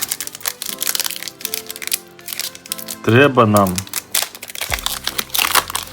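A Pokémon Ascended Heroes booster pack wrapper is torn open with loud, close crinkling and crackling foil that runs almost continuously, while a person speaks briefly over it.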